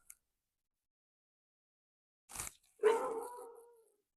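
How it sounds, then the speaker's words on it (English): A dog barks behind a tarot reading, giving a short sharp bark and then a longer, louder bark-howl that trails off, moderately close with no talking over it. "Sorry about my dog barking."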